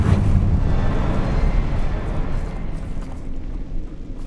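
A Confringo fire spell detonates in Hogwarts Legacy, a loud rumbling blast that swells at the start and then rolls on as a sustained low roar for several seconds.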